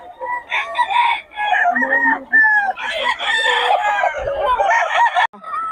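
Gamecock roosters crow loudly and repeatedly, their drawn-out calls overlapping, with clucking hens mixed in close by.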